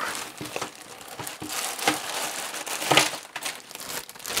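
Plastic bag of LEGO Technic parts being opened and handled, giving a steady close crinkling and rustling with a few sharper crackles, heard alone with no talking.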